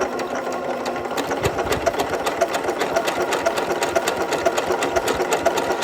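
A Continental M8 sewing machine stitches at full speed, a fast, even, rapid clatter of needle strokes held steadily throughout, close and alone with no talk.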